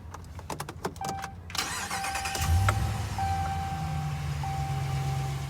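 A 2020 Ram 1500 Warlock with a 5.7 Hemi V8 starts up: a few clicks, a brief starter crank, then the engine catches with a rising roar and settles into a steady, close idle with no talking.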